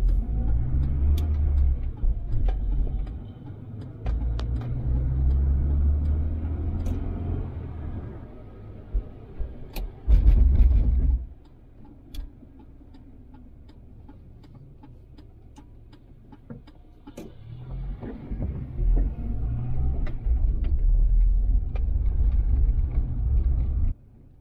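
A 1988 Volvo 240 driving on European roads, its low engine rumble steady and close, dropping to a quiet idle for several seconds midway before pulling away again, with faint ticking in the cabin.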